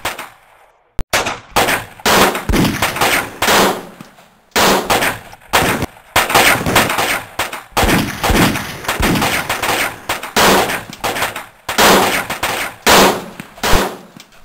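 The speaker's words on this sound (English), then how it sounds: "When I came to, I could hear the sound of gunfire all around." Gunfire rings out in rapid, loud bursts of crackling shots with brief pauses between volleys, like a police shootout with continuous exchanges of fire.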